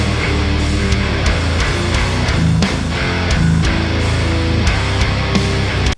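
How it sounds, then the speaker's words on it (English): High-gain rhythm guitar played through a Mesa Dual Rectifier amp, a dense, loud, continuous wall of distorted chugging with steady rhythmic attacks and no voices. "We have one main pair where I used a Mesa dual rectifier,"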